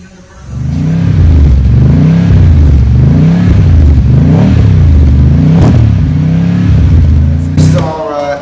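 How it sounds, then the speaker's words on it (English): A Jaguar XK8 race car engine revs repeatedly in rising and falling surges, loud and close, building from near silence and fading at the end. "This is our XK8 race car"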